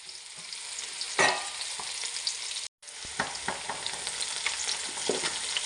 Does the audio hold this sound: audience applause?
no